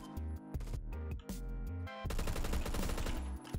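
FAL rifle gunfire in the video game Phantom Forces, loud and close, with bursts of rapid shots, a few pauses, then a sustained stretch of fire.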